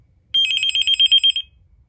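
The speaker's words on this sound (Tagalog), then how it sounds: "Bigla na lang may nag-ring." A phone at home in Japan gives a single short burst of rapid, high electronic trilling, loud and close, in an otherwise quiet room.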